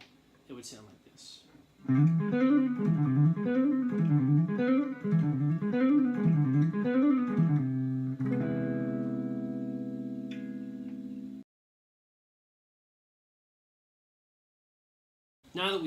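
Guitar runs fast sextuplet phrases through an augmented scale, the notes rising and falling in rapid waves for several seconds, then settling into sustained ringing notes before cutting to silence; a voice speaks briefly at the start.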